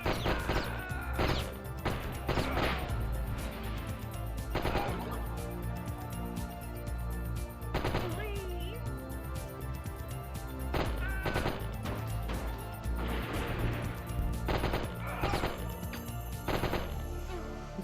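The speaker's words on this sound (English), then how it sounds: "Also, this is a shotgun." Shotgun blasts from a PS1 video game, a series of loud, punchy game shots repeating at irregular intervals over steady background game music.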